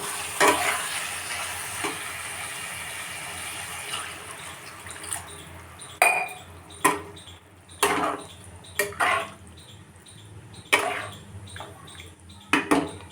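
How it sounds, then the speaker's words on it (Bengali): Katla fish curry frying in a pan as water is poured in, with a steady sizzle and bursts of louder spattering and stirring clatter, close and without talk. "তরকারি থেকে তেলগুলো ভালো মতন তেল তো আমি এই সময় এবার জল দিয়ে দেবো"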